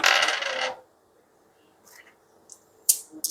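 Dice for a Kings of War tabletop wargame clatter and settle on a table, first a brief rattling burst, then after a pause a few sharp clicks as they come to rest, with no voices.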